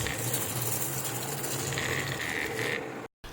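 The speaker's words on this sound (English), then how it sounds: "So now we'll just whisk the eggs till it's nice and frothy." Three eggs are whisked until frothy for a mango bread pudding, giving a steady close mechanical whirring and rattling that runs evenly, then cuts off abruptly near the end.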